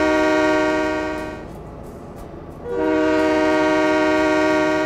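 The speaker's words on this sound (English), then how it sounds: "Everybody loves train horn, right?" A train horn from the Train Mechanic Simulator 2017 video game sounds as a loud, sustained multi-tone blast, drops away briefly, then blares again, with no talk over it.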